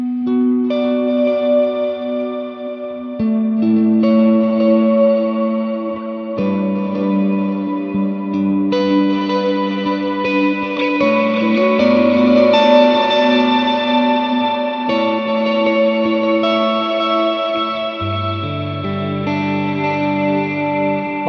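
Electric guitar played through a reverb effect on a Hotone Ampero II Stomp multi-effects unit, with sustained chords and notes trailing into long, washy ambient tails, loud and continuous with no talking.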